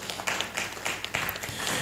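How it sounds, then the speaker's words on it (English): Applause from an audience at a professional year opening ceremony, a brief stretch of dense, steady clapping at moderate loudness. "Okay, a round of applause for Mr."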